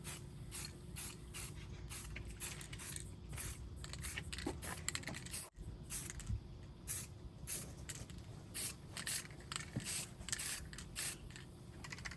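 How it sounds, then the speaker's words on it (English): Hand-held spray can painting a Holley split high-rise intake manifold for an LS2, rapid hissing bursts in irregular rhythm with rattling and handling clatter, quiet and close with no talk. "I'll just pick it up like this and spray by hand up underneath"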